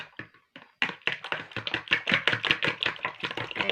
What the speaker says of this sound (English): I'm going to beat the eggs